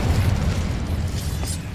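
An Incendio fire spell is cast in Hogwarts Legacy, a loud, deep whooshing burst of flame with a rumbling low end that lasts about two seconds.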